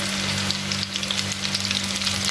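Pakoras sizzling in hot oil over medium heat, a steady close crackle with dense bubbling throughout and no talking.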